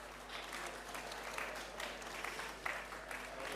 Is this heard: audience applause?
yes